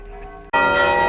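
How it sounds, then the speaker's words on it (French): Church bells suddenly ring out loud and close, a rich sustained clang with layered overtones following a quieter lingering tone. "il y a les cloches qui sonnent"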